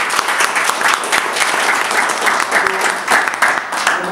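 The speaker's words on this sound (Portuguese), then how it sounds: "pedir você forte aplauso para você mesmo" A crowd at a presidential address gives loud, dense, sustained applause, close and full throughout with no pause.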